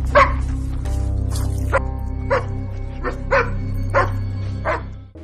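Several dogs, strays gone feral, bark and yip in short bursts, about seven barks spaced across the stretch over a steady low drone, fairly close and loud.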